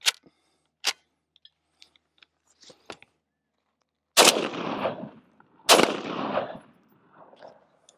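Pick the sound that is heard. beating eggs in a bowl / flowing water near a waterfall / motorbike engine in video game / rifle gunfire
rifle gunfire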